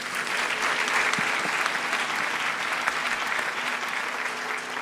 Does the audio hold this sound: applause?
yes